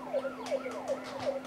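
A police car siren in a city racing video game wails in fast repeating up-and-down sweeps, loud and close, over a steady engine hum and a constant electronic tone.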